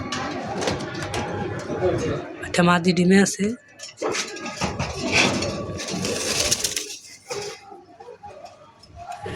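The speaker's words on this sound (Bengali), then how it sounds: "এটা পায়রা।" Fantail pigeons at a bird seller's place coo in low, rolling calls, partly masked by someone talking close by over the birds.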